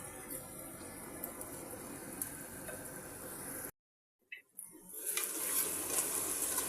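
Tomato mixture for Kuwaiti chicken pulao sizzling in a pot while being stirred, a faint steady frying hiss with light scraping, broken by a brief silent gap before the sizzle returns.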